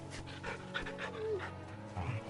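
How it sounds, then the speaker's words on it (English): A dog being petted in the video game Final Fantasy XVI, panting in quick soft rhythmic breaths at close range with a brief whimper-like tone, while a voice talks faintly underneath. "I pet the puppy."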